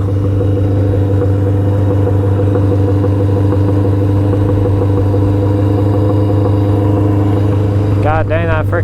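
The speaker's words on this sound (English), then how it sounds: "freaking thing idles loud" Motorcycle engine idling loudly after repeatedly stalling, a steady deep rumbling drone right up close, with a voice briefly breaking in at the end.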